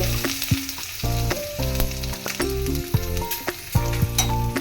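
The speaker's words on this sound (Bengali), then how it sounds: "একটু সর্ষের তেল দিয়ে দিয়েছি, একটু কম করে পেঁয়াজ দিচ্ছি।" Onions frying in mustard oil in a pan on a gas stove give a steady, close sizzle with occasional stirring clinks, layered over sustained tonal sounds.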